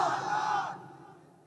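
A village crowd at an outdoor Islamic sermon gathering shouts a takbir in unison, a loud massed cry that holds for under a second and then fades into a quieter murmur.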